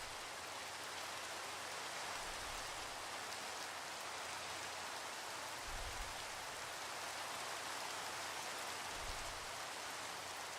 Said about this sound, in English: I didn't even realize it was raining.